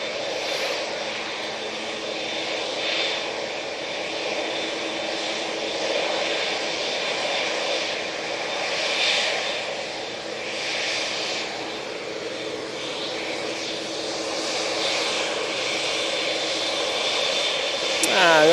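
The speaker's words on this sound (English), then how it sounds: "there's another Dreamliner about to come on to make it very loud as well." Boeing 787 Dreamliner jet airliner landing at Manchester Airport, a steady, broad engine roar that stays fairly even throughout with slight swells, heard from a moderate distance.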